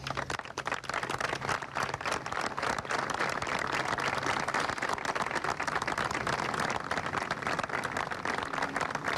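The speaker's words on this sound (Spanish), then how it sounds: "Le doy un aplauso yo a ustedes." Audience applause at a press conference, dense steady clapping from many hands, loud and continuous throughout with no talk over it.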